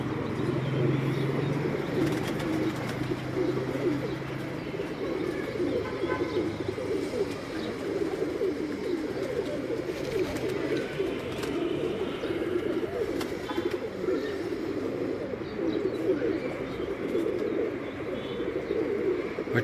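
Ferozpuri pigeons on an Islamabad rooftop give a continuous, dense murmur of cooing at moderate distance, a steady flock chorus with no clear breaks.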